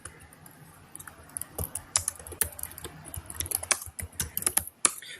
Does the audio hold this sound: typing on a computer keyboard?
yes